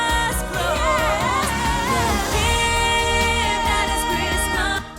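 Warm orchestral pop passage led by a Cinnabrass two-horns patch with poly legato, sustained brass lines swelling over a full, continuous arrangement, loud and steady throughout.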